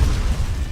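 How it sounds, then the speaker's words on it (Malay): A mobile phone bursting apart in an explosion effect, a loud dense rumble of low booming noise that fills the whole short moment. "Dengar kata, telefon dia meletup"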